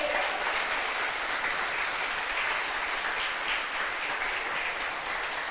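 A church congregation applauds, a dense, even wash of many hands clapping together that stays steady and fairly loud for several seconds without voices.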